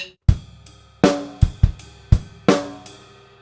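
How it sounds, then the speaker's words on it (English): A drum groove played on the ride cymbal, strikes ringing over punchy low kicks, about six hits in a loose steady pattern, played alone without any talk. "So on the ride cymbal, it sounds like this"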